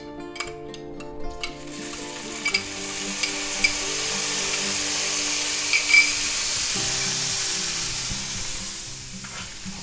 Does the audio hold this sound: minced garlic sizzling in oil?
yes